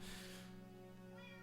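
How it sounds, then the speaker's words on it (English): A pet cat gives one drawn-out, slightly wavering meow, close and clear, indoors with no talking. "As you can hear my cat in the background"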